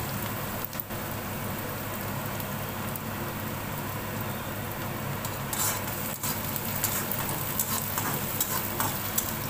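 Onion and chili sauté in a pan, giving a soft continuous sizzle with occasional stirring scrapes, fairly quiet and steady throughout with nobody speaking.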